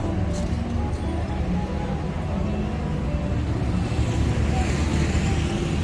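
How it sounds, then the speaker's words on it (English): An electric boat passes nearby on a Bangkok canal, its motor giving a steady low churning drone with some wind noise, no talking. "the electrical boat just passed by"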